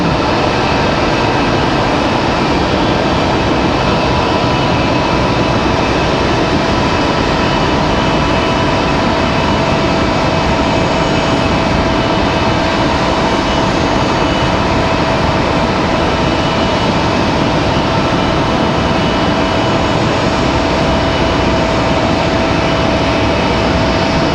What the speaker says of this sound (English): Next arrival is going to be Delta 2699 coming in from Minneapolis